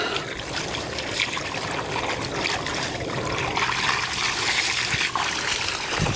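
Water trickles and sprays steadily from a broken sprinkler pipe outdoors at a home, a continuous hissing flow at close range with no talking.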